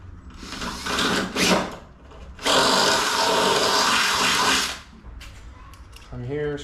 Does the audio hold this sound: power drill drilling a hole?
yes